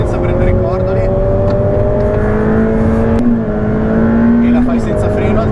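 Ferrari F8 Tributo twin-turbo V8 on a racetrack, a loud continuous engine drone with rising pitch, a brief dip and upshift near the middle, then the climb resumes, with a voice talking over it.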